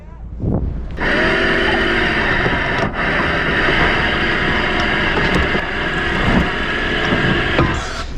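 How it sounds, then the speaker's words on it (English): A sailboat's engine drones continuously after a brief start, loud and close, motoring near a beach off Ireland's west coast, with wind and water noise layered over it. "Can you motor us towards the beach just like a boat length?"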